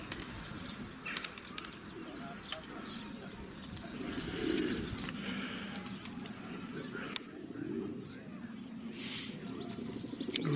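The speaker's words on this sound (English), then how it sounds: "Which is quite well known for its pigeon population." Pigeons around Watchet coo softly amid flapping wings and chirps, set against continuous outdoor background noise.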